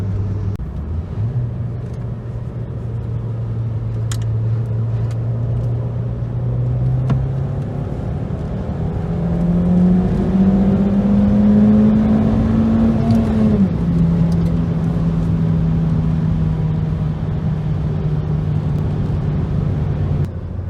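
2003 Audi TT driven on the road, recorded from inside the cabin as a sustained engine hum and tire roar. The engine note climbs through the gears, then eases back and settles at cruising speed, with no talking.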